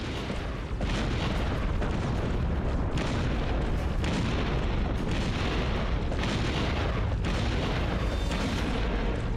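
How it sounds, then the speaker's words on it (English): Rocket explosions in a Terminator 3 video game, a relentless, loud series of heavy booms and blasts with brief dips between bursts, filling the whole stretch. "whoever's shooting those rockets"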